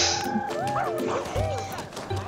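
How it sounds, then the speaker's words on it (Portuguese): Dogs fight in The Sims 2, with short whining, yelping cries and low growls rising and falling over a busy game soundscape, the animal noises moderately loud and close. "Ela largou tudo pra ver a treta dos cachorros"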